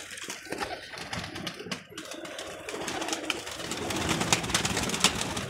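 Pigeons kept on a rooftop coo softly, a low murmuring blend with faint flutters and clicks, steady and close throughout.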